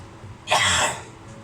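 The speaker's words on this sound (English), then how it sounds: "I can't believe I am still coughing." One short, raspy cough, close and fairly loud, in a home kitchen, with quiet around it.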